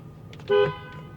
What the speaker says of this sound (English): Horn works fine.